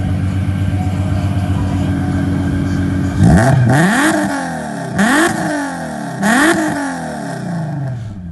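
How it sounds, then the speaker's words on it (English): Car engine fitted with a Z1 single-exit catback exhaust, long-tube headers and a Stillen supercharger revs hard three times over a steady idle, each blip rising and falling with a deep, loud note; no talking. "we have a Z1 single exit catback exhaust. So it sounds really good. The long tube headers make it sound very deep."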